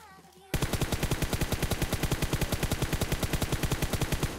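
A sustained burst of rapid automatic gunfire in PUBG Mobile starts abruptly after a brief quiet moment, then continues as a loud, evenly spaced rattle of shots to the end.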